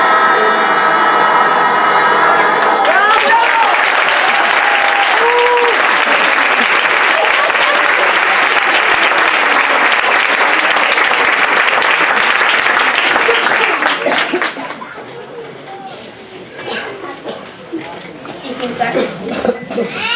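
Audience at a fourth-grade primary school Christmas concert bursts into loud, dense applause that runs about fourteen seconds with voices mixed in, then fades to scattered clapping and murmuring chatter.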